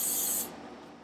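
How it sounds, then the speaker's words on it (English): Olive oil spray hisses onto raw chicken in one short, bright burst that stops abruptly, leaving only quiet room tone. "you can use an olive oil spray"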